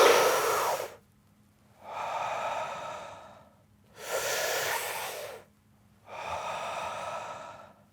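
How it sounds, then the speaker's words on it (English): Deep, forceful breaths in the Iceman breathing method, four long rhythmic breath cycles each lasting about a second or more, separated by brief quiet pauses, close and alone. "Breathe in."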